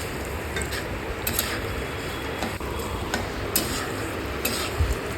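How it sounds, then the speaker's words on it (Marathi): Grated coconut roasting on a low flame for poha chivda, with a steady soft hiss broken by light, evenly spaced spoon taps and scrapes against the pan. "मी खोबरं, डिशभर खोबरं त्याच्यातच टाकलेलं आहे आणि याला लो फ्लेमवरती 5 ते 10 मिनटं आपण भाजून घेऊया"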